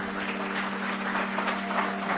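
Audience clapping for a child's parents at a talent show in Gulbarga, a dense, even wash of applause with a steady hum underneath, fairly loud and continuous, with no voices.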